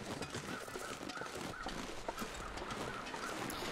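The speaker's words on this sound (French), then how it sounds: "Apparemment, il y a des corbeaux." Crows cawing in the snowy wilderness of the survival game The Long Dark, a series of short harsh calls repeating over a steady windy hiss, moderately distant and fairly faint, with no one talking.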